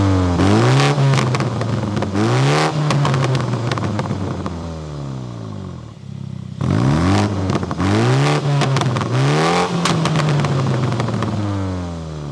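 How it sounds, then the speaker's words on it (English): A 2021 BMW M235i Gran Coupe's 301-horsepower engine is revved hard in two bursts, each rising and falling in repeated climbing sweeps, separated by a brief dip near the middle; loud and close, with no talking. "give us some revs so you can actually hear that 301 horsepower"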